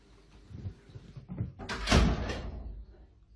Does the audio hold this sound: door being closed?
yes